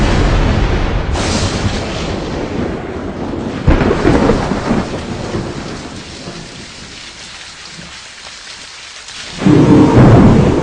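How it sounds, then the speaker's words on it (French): A tropical storm pours heavy, loud rain with rumbling thunder, the roar swelling and easing over about ten seconds before a fresh burst of downpour near the end. "Et des tempêtes tropicales balaient la planète."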